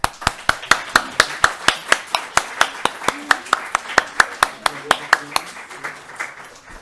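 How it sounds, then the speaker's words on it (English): An audience applauds student oral research presentations at the Junior Pluridisciplinaire event. A few people clap in sharp, evenly spaced strokes, about three per second, that stay crisp and close before thinning out near the end. "I think that you all deserve an applause"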